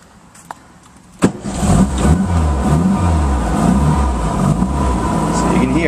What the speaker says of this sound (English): I'm just going to start the car up so you can see that she starts up right away.